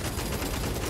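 Assault cannon fire in Space Marine 2, a dense rapid rattle of loud shots running unbroken through a brief burst.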